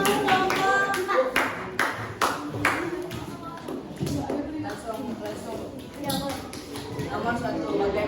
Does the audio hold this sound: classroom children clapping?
yes